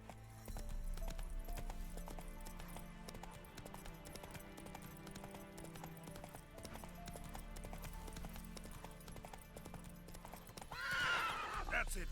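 Horse hooves clip-clop steadily at a gallop for Roach in The Witcher 3, a continuous rhythmic pounding under game music and ambience, with a whinny rising near the end.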